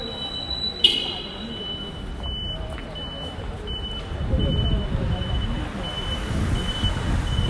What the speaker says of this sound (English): You hear the taxis beeping because they're all silent.